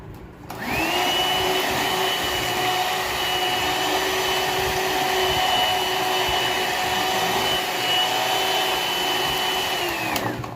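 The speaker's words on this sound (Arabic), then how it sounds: "هضرب بقى فيها من 7 دقايق ل10 دقايق لغايه ما اللون بتاعه يبيض" Electric hand mixer whipping a homemade marshmallow mixture with vanilla, a steady loud motor whine running unbroken for about ten seconds, starting abruptly and cutting off at the end, with no talking.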